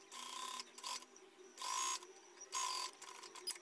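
A sewing machine stitches folded ribbing pieces in short bursts, its needle rattling quickly for a moment, pausing, then starting again in a close, mechanical stop-start rhythm.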